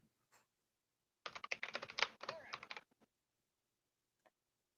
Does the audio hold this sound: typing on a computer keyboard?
yes